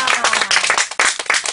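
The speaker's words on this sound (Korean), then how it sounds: "근데 정말 제가 아닌 이우영이한테 정말 감사의 박수 한번 보내드릴까요?" Audience applause at a family gathering of seven siblings in Gyodong, Ganghwa, a dense burst of clapping from a small group, close and steady with no talk.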